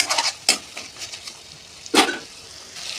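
A spatula stirs vegetable masala into vegetarian ridge gourd curry with seeds and lentil bori frying in a pan, giving intermittent scraping clacks over a faint sizzle.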